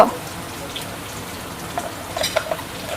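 Sliced onions fry in a pan in steady, close sizzling crackle, with a few brighter pops and stirring scrapes toward the end; no talking.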